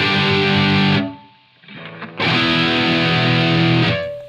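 Electric guitar through a Soldano SLO 100 rhythm channel model on a Line 6 Helix, heavily distorted, playing loud chords that drop out briefly mid-phrase before resuming and ringing out, with no talking.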